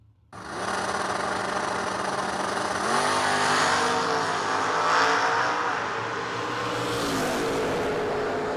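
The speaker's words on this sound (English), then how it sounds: "Wow, what a drag race." Drag racing cars launching and accelerating hard down a drag strip at a vintage motorsports event, a loud sustained engine roar with rising pitch that swells and holds for several seconds.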